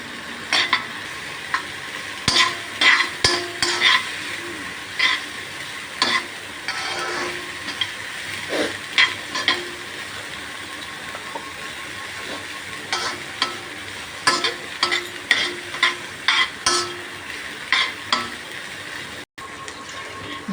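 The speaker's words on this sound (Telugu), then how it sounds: "ఇప్పుడు క్యాప్సికం కూడా వేసుకోవాలి. ఇవన్నీ బాగా ఉడికించుకోవాలి." Capsicum and other vegetables stir-fried in a pan for cheesy pasta, with a steady sizzle under repeated scraping strokes of a spoon against the pan, close and loud, with no talking.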